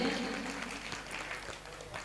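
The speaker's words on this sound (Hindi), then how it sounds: "एक मरतबा ज़ोरदार तालियां बजाकर मुझे इजाज़त दे दें" The audience at an all-India mushaira poetry gathering at Mela Jalbihar applauds, a soft, distant wash of clapping that fades slightly as it goes on.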